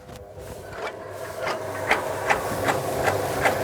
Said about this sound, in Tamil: வைக்கோலை துண்டு பண்ணுறதுக்காக நம்ம மிஷினில் பயன்படுத்துகிற முறையை பார்க்கலாம்